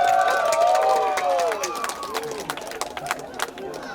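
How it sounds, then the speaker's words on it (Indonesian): Applause from a crowd at a village ceremony honouring Desa Wisata Dewi Anom as one of Indonesia's 50 best tourism villages, a steady wash of clapping with some tonal calls and noise layered over it. "Beri tepuk tangan meriah kepada Desa Wisata Dewi Anom."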